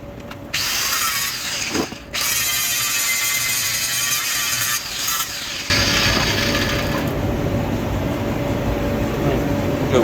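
Steel pipe being cut with a power tool: a steady loud grinding whine runs throughout, with brief pauses near two and five seconds before the cut resumes even louder.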